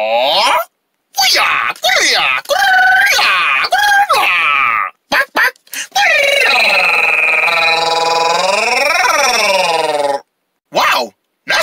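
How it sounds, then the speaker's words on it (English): A cartoon character in a fast-food kids' meal commercial lets out long, loud, wavering yells and screams in several bursts with silent gaps, one sustained cry sliding up and down in pitch, mixed with cartoon voices. "Wow, that's karate scream."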